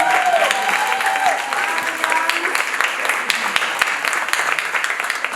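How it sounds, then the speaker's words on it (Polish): An audience at an illusionist's show breaks into dense, steady applause of many hands, loud and close. It continues for several seconds, with a few voices calling out over the clapping. "jeszcze wielkie oklaski"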